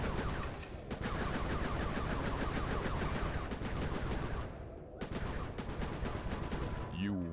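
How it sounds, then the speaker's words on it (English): Rapid bursts of fireworks fire in the Sly 3: Honor Among Thieves video game, a dense crackling barrage of repeated pops with a brief lull midway before the volley resumes, ending on a rising whistle. "Be careful with those fireworks, Panda King."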